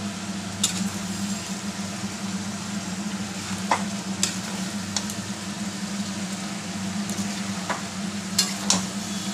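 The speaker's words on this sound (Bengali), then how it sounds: "আর এইদিকে কচু ভাজা হচ্ছে" Pieces of taro fry in oil in a kadai, making a continuous close sizzle under a low hum, broken by occasional sharp scrapes and clicks of stirring, with no talking.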